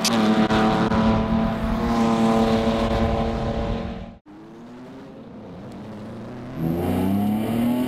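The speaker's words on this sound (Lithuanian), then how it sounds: "komandų pilotai sėda už vairo ir išvažiuoja į trasą" Race car engines roar loudly as endurance race cars head out onto the track. A strong, droning engine note shifts pitch, drops out sharply for a moment, then returns with another engine revving higher.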